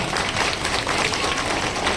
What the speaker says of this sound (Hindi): तो मैं चाहूँगा आप लोग जोरदार तालियों से स्वागत करें सर का